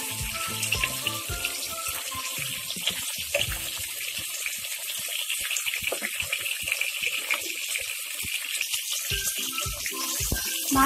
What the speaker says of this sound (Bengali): আরেকটা দিক উল্টে দিচ্ছি